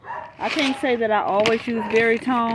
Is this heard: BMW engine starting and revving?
no